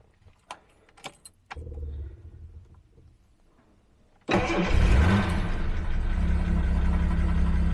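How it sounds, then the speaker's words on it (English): Keys jangle on a classic car before the starter cranks, then the engine catches and settles into a loud, steady idle close by. "Alright, fired right up. Just gonna let this thing idle."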